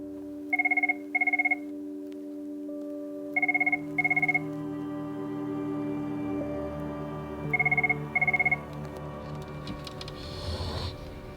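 A desk telephone rings in three pairs of short electronic trills spaced a few seconds apart, loud and close over a steady low hum, followed by a brief rustle.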